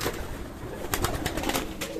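Hungry pigeons coo and flutter close by, soft repeated throaty murmurs with brief rustling bursts over a steady background hiss.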